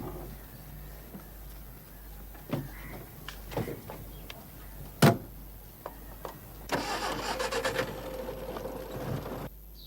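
An old car's engine turns over, catches and revs, then pulls away, following a few scattered knocks and thumps, moderately close in a quiet Indian street scene from a 1993 detective serial.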